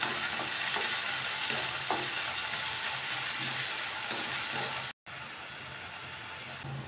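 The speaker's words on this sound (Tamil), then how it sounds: "வெங்காயம் நல்லா வதங்கி இருக்கும்." Onions sautéing in oil with cumin and curry leaves for a Tamil chicken fry, a steady loud sizzle with occasional stirring scrapes, continuous apart from a brief cut near the end.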